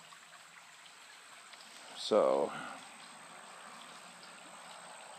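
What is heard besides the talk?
creek water flowing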